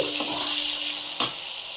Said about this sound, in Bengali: এর জন্য আমি ভেটকি মাছের তেলটা একটু ভেজে নিচ্ছি